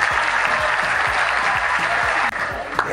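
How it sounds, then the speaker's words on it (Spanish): Dense applause from students and staff at a CBTA 17 school report presentation, a thick continuous wash of clapping with a low rhythmic thump beneath it. "Pido un aplauso."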